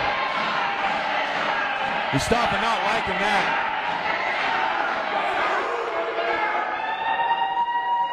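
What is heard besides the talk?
wrestling crowd cheering for hometown hero JR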